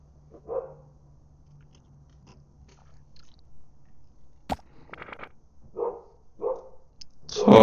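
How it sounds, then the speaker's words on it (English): A dog in a house gives a few short barks and yips amid quiet, with some chewing or crunching sounds and a sharp knock, sparse and moderately near. "They got a dog?"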